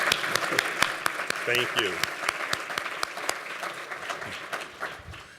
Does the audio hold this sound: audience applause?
yes